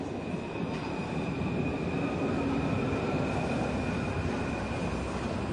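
A metro train at a subway platform rumbles steadily and loudly throughout, with a sustained high whine running over the dense low roar of the wheels.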